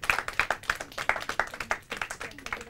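An audience applauds a team's score at a Hindi quiz contest, with steady, moderately close clapping that holds a rhythmic pulse while faint voices murmur underneath.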